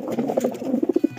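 Soft, low cooing from a pigeon, a series of rounded throaty pulses that quicken toward the end, close by with faint background rustle.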